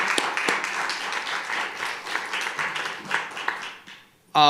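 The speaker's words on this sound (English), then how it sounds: "If we can give our judges a round of applause as well, that'd be wonderful." Applause from the audience at a startup pitch competition, aimed at the judges: moderate clapping with some distinct near claps, easing off toward the end before a brief loud burst cuts in.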